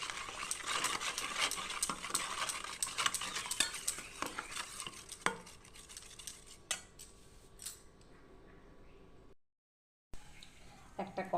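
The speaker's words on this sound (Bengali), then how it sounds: "এবার আমি এটাকে ভালো করে গুলিয়ে নেব।" Rice starch batter with black cumin being stirred for papad, brisk close scraping and clinking of a utensil against a bowl, fading to quieter taps before a brief gap.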